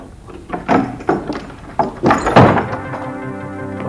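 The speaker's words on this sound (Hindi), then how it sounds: "अच्छा, अभी खोलती हूँ दरवाजा।" A wooden door thuds and rattles through a series of close knocks and bumps, then swings open with a low creak, loud and alone with no talk.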